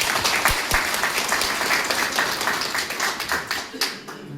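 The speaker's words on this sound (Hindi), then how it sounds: "उनके लिए एक जोरदार ताली हो जाए" A crowd applauds with dense, sustained clapping at a retirement farewell, fading toward the end, a few louder individual claps standing out.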